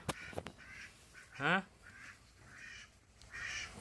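A duck gives one loud, drawn-out quack between stretches of people talking nearby, with faint bird calls and rustling in the background.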